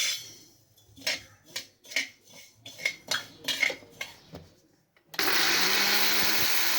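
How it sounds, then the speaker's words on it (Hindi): Roasted ajwain (carom seeds) is ground in an electric grinder. Light clattering of utensils comes first, then the grinder starts suddenly and runs as a loud, steady, rough whir to the end. "अब देखिए हमारा अजवाइन भी ग्राइंड हो गई है।"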